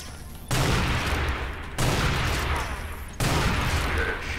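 Heavy weapon fire in Unreal Tournament pre-alpha booms out in three loud, sustained blasts, each starting abruptly and rumbling on for over a second, with no talk over them.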